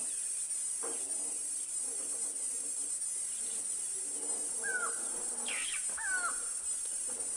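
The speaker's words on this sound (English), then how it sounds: "the strange buzzing noise you can hear, very electrical type sound, are cicadas, and they are in this tree." On a morning safari drive, cicadas in a tree make a faint, steady electrical-sounding buzz, with a few brief bird chirps rising over it near the end.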